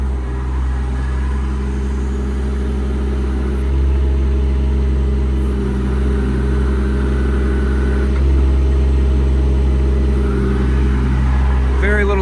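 Kenworth T370 mechanics truck diesel engine idling, a loud steady low rumble close by that holds throughout, with someone talking faintly over it.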